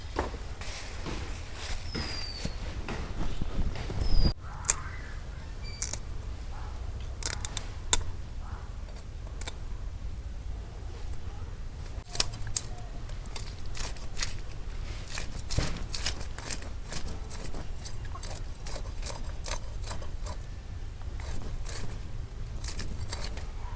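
Fresh fish is cut and cleaned outdoors, with irregular close-up clicks, snips and scraping spread across the whole stretch and a sharper knock near the start.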